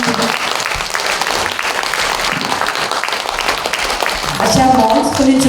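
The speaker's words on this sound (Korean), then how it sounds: "감사의 박수 올립니다" An audience claps in an assembly hall at the National Assembly, a dense, sustained round of applause filling the room, with a voice speaking over it near the end.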